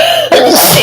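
A single sharp sneeze bursts out loud and close, a brief breathy intake followed by an explosive noisy blast that fills the room, alone with no talking.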